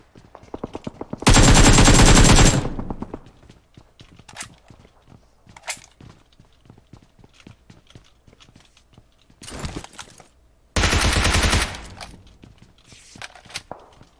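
Gunfire in PUBG Mobile: two long, loud bursts of automatic fire stand out among scattered single shots and light footstep-like ticks, with quiet gaps between bursts and no talking.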